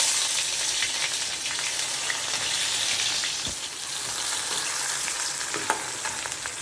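Fenugreek seeds and shallots frying in hot oil for a homestyle Kerala fish curry, a steady close sizzle with crackling pops running throughout, no voices.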